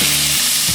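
Spinach frying in a hot pan with cumin, garam masala and salt, a steady close broadband sizzle that continues without a break, loud and alone.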